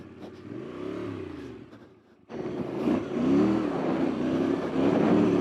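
A factory Yamaha Ténéré Rally motorcycle engine revs hard while racing across the desert, its note rising and falling in two close, loud bursts, with a brief dip before it surges again.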